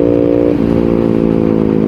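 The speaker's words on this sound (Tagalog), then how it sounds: "Gagawin natin yung clutchless shifting." Loud, close motorcycle engine at high revs, its steady tone dropping abruptly in pitch partway through as the rider shifts gear without the clutch, no quickshifter or slipper clutch fitted, then droning on evenly.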